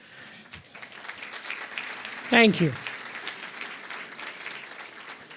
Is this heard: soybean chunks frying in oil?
no